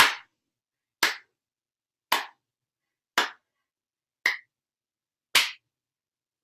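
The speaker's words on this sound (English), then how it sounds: "out, clap, out, clap, out, clap" Six single hand claps at roughly one-second intervals during a Kundalini movement practice, each sharp, close and isolated, with silence between them.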